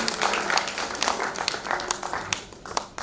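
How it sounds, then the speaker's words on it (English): A crowd applauds, with a scattering of individual claps rising and thinning out over a few seconds, fairly close. "another round of applause for her"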